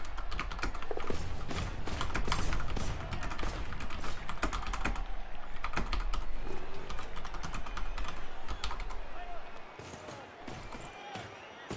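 Rapid, irregular clicking on a computer keyboard during a Blood Bowl 2 game, with keystrokes in dense bursts, close and moderately loud, continuing for most of the time before pausing near the end.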